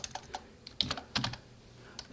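Typing on a computer keyboard while working in TempleOS: a few isolated, crisp key clicks, then two small clustered bursts of keystrokes, close and fairly quiet, with no talking.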